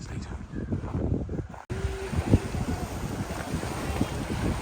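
Wind gusts buffet the microphone on the shore of Shoshone Lake in Yellowstone, a steady rumbling roar with choppy bursts and faint lapping water, continuing without pause.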